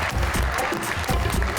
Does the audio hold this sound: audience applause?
yes